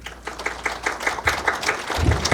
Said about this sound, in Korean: 예, 박수로 모셔주십시오.